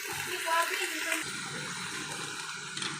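Water runs into a cooking pot in a steady, close splashing stream, its tone shifting partway through as the pot fills.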